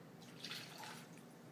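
Stirred borax solution poured into white glue to make slime, a faint soft liquid trickle and drip lasting about a second at close range.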